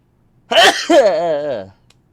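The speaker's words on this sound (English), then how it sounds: "hold on, I have to sneeze." A single close, loud sneeze: a sharp intake followed by a drawn-out, voiced burst that trails off into silence.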